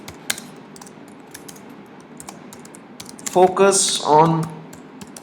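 Keys tapped on a computer keyboard in a quick, uneven run of light clicks, close by, with a voice speaking over the later part.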